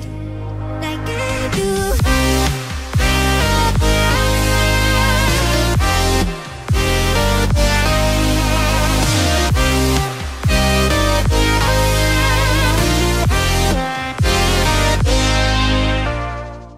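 Loud, dense music with robotic, harmonized vocoder vocals pulsing in chords over a steady beat, with brief drops between phrases.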